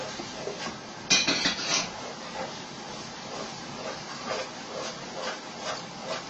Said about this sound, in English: So it says continue stirring to let all the flavors bloom.